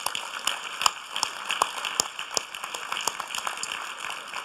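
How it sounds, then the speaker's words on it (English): Audience applause at a panel on international ties: scattered, fairly faint handclaps that pop irregularly over a steady background, with no talking. "Please give yourselves a round of applause."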